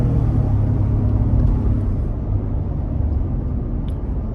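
A 2020 Ford F150 with the 3.5L EcoBoost engine pulls away while hauling a heavy load, producing a steady low rumbling engine drone with road noise, heard from inside the cab and easing slightly after the first moments.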